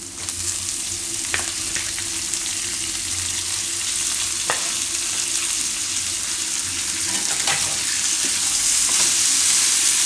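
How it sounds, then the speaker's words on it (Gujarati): Fenugreek leaves sizzle steadily in a hot pan for a Gujarati methi matar paneer, with a continuous bright frying hiss and occasional sharp clicks of a spoon stirring, close and loud with no talk. "મેથીને થોડીક વાર આમાં પકાવી લેવું."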